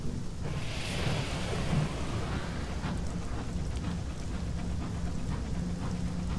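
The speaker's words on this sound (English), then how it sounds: "I say rainforest, it just sounds like rain." Rain and thunder ambience in the video game Sunless Skies, a steady rain hiss with low rolling thunder underneath, continuous and fairly soft throughout.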